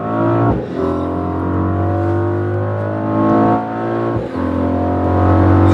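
A 2021 Mercedes-AMG GLE 63 S Coupe's bi-turbo engine revs hard and roars as it accelerates on a highway, pitch climbing through gears with brief dips at shifts, loud and close with no talking.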